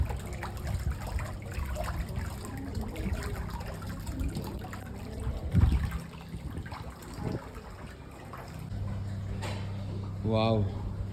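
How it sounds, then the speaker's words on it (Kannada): A water fountain splashes and trickles steadily in the background while people talk over it, with a brief louder gush partway through. "ನೀರಿನ ಚಿಲುಮೆ."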